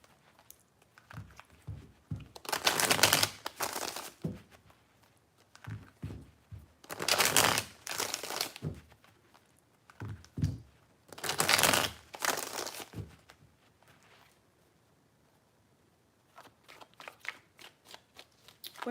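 Tarot cards are shuffled in three separate bursts of riffling and flapping, each a few seconds long with quieter card handling in between, close and clear.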